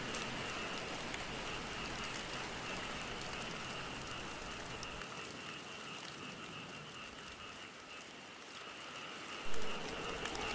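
Steady rain falling at night in a rural field after a storm, a dense continuous hiss with frogs faintly croaking underneath, no voices.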